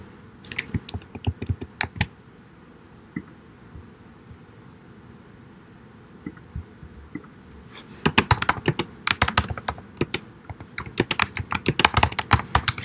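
Typing on a computer keyboard during a lecture on computing an attribute closure, heard as close, crisp clusters of key clicks in short bursts separated by quiet pauses, then a denser run of rapid keystrokes.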